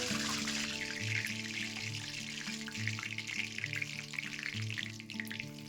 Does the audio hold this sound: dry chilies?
yes